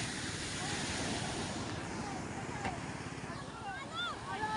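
Ocean waves wash and rumble steadily at sea near a boat on a lobster-hunting trip, mixed with wind buffeting the microphone, while people talk faintly over it.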